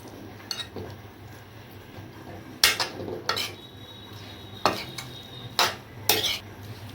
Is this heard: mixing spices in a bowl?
yes